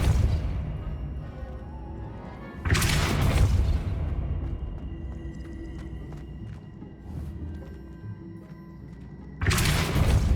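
Depulso force spell cast in Hogwarts Legacy, heard as three loud whooshing bursts with deep rumbling impacts, spaced several seconds apart over low ambient game rumble.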